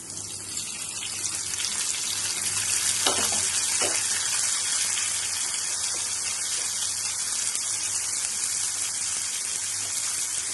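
Tomatoes tumble into onions already frying in a pan for an Andhra-style fish roe curry, setting off a steady, close sizzle with a brief stirring scrape early on, no voices over it.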